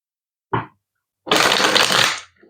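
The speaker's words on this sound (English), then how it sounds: "I am going to give this deck here a quick shuffle" A Star Maiden Tarot card deck gets a quick shuffle up close: a brief card flick, a pause, then a loud, dense riffle lasting about a second.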